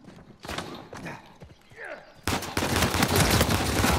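Pistol gunfire in the video game Uncharted 4: scattered single shots and thuds early on, then a dense, loud barrage of rapid shots.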